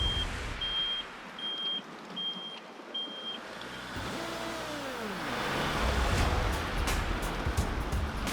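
A powerful, fast-flowing river rushes loudly as an Iveco truck fords it during an off-road crossing on Queensland tracks. A vehicle engine rumbles beneath the constant broadband roar of water.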